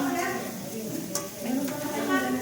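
Meat is mixed with seasonings during meat processing, a close, continuous wet stirring and sizzling texture with a couple of sharp clicks, faint talk in the background.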